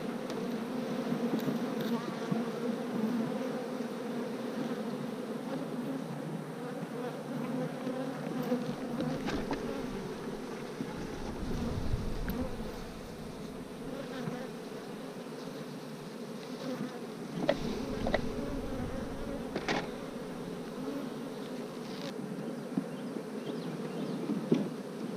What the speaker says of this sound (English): I would shake nurse bees in the nuke box as well to strengthen the hive